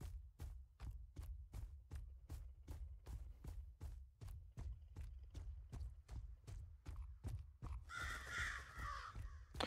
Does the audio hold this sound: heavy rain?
no